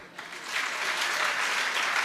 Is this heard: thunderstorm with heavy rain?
no